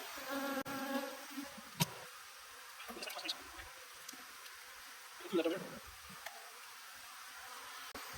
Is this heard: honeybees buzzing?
yes